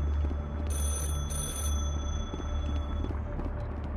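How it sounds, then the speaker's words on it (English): A telephone rings in the RecRoom virtual world, repeated electronic trill bursts over a loud steady low hum and faint footsteps, with no speech. "Here, Nolan, I'll let you answer the phone."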